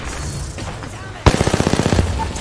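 Gunfire in Apex Legends, with a quiet lead-in followed by a sudden loud automatic burst of rapid, evenly spaced shots, close and punchy, over faint background game noise.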